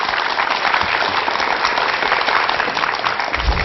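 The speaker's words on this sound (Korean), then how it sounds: "큰 박수로 청해 듣겠습니다." A studio audience at a televised lecture applauds to welcome a professor speaking on acupuncture and immunity, a dense, even wash of clapping sustained for several seconds.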